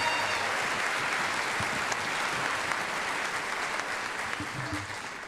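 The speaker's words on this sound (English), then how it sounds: "Can we get a round of applause for these guys?" A graduation commencement audience at North Idaho College applauds steadily in a large hall, a dense, sustained wash of many hands clapping at fairly even loudness that tapers slightly toward the end.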